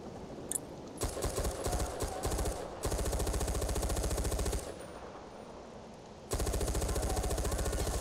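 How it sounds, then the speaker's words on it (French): Sustained machine gun fire in the shooter Far Cry 4, rapid continuous bursts broken by short pauses, loud and close, with the rhythm of long automatic strings and no talk over it. "On reste à la mitraillette."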